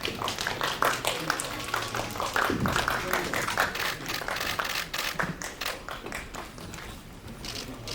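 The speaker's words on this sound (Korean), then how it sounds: "박수로 맞이해 주시기 바랍니다." Audience applause at a press conference welcoming the director, writers and cast of a drama series, a steady patter of many hands clapping at moderate level for several seconds, tapering slightly at the end.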